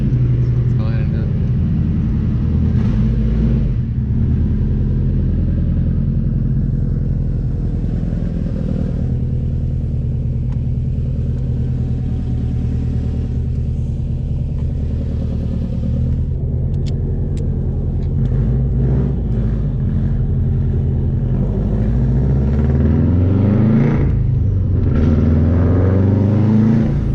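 A 2005 Subaru STI fitted with a COBB 20G turbo drives along, its engine rumbling loud and close from inside the car and rising and falling through revs over nearly half a minute, with a voice talking over it.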